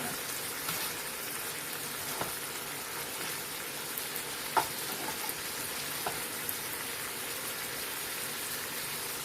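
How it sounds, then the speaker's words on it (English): Meat heating in gravy in a pan gives off a soft, steady sizzle and bubbling hiss, broken by a few faint pops and light clicks, with no one talking. "I'm heating it up in this gravy so we'll still get some of that flavor in there"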